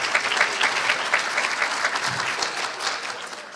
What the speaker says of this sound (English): An additional extra round of applause for our students who we teach all the time.